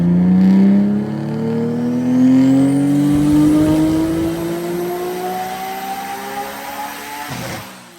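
A freshly built Nissan R34 GT-R accelerates hard on a runway, its engine note climbing steadily through a long pull, loud and close before easing off and fading slightly at the end.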